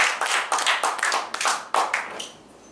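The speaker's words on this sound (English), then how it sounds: "Please welcome him on the stage. Clap for him." A small group at a public speaking training session claps in uneven bursts, fairly close, the applause thinning and fading out toward the end.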